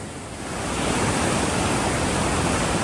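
A whitewater rapid on Idaho's South Fork Salmon River roars as a dense, steady rush of churning water, loud and close with no voices.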